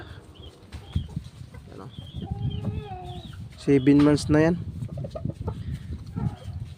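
Small red chickens about seven months old clucking on a farm, several bright, close calls in short bursts with one louder run of clucks midway, while someone talks throughout.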